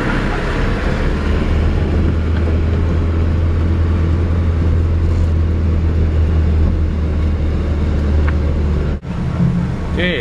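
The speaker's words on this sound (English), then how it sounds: "this is driving through road construction" A car drives through road construction in southern Ecuador, heard from inside as a loud steady engine drone and road rumble with rattling over the rough surface, continuous throughout and briefly cut near the end.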